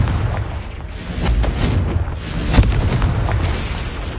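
A Confringo spell explosion in a video game, a deep booming blast rolling under dense rumbling noise, loud and close, with a sharp crack partway through.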